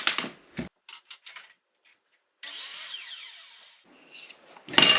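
A single saw stroke rasps through a cherry wood block for a second or so, framed by scattered knocks and handling clatter of wood and tools.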